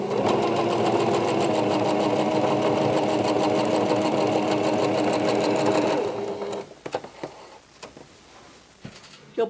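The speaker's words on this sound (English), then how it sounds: "we're going to sew it right on top" A sewing machine runs steadily for several seconds, stitching quilt pieces together with a fast, even mechanical whir, then stops and leaves faint handling clicks and rustles.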